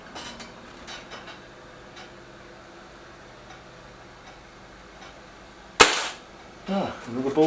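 Kral Puncher Breaker air rifle pellet strikes a target with one sharp, loud impact crack after quiet, faint ticking background, followed by a few softer rattling knocks.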